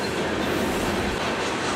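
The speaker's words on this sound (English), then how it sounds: "Although we are observing a BNSF train, we are on Canadian Pacific's River Subdivision" A BNSF freight train rolls past on Canadian Pacific's River Subdivision near St. Paul, a loud, close, continuous rumble of wheels on rails with no voices.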